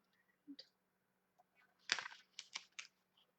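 Scissors trim paper holly berries on a handmade white-on-white holly leaf card: a few quiet, close, crisp snips and clicks in short bursts, with a brief gap between the first cut and a quick cluster of later ones.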